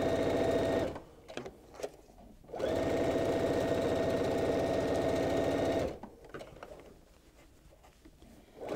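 A sewing machine stitches rows of fabric together in two long, steady runs of loud mechanical whirring, separated by short pauses filled with handling clatter, then quieter rustling.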